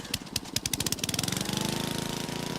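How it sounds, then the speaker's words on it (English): A drill works rock overburden at a dinosaur dig site, starting with separate hammering bursts that quicken into a loud, steady rapid pounding with an engine running underneath. "Using pickaxes, shovels, and drills, the team carefully removes the 2 stories of overburden"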